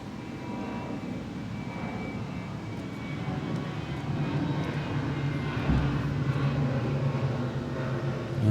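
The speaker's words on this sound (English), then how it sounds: "You can hear airplanes flying." Aircraft engines drone overhead in Kingdom Come Deliverance, a steady broad roar that slowly swells louder over several seconds, alone with no talking.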